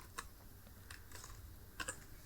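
A computer keyboard is tapped to enter a captcha on a voter-list update web form. A few sparse, faint keystrokes click in a quiet room, with no voices.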